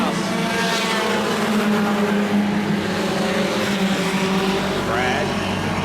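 Race cars roar around the oval at Carina Speedway in a National 4's A-Main, engines droning loud and continuous as they pass, with an announcer calling the action over the noise.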